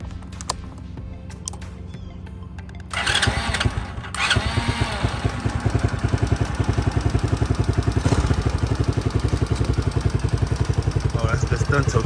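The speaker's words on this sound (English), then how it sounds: "Let's do a cold start" A 110cc four-wheeler ATV engine cranks over from cold, with quiet rattling for about three seconds before it catches and settles into a steady, loud, rapid idle that runs to the end.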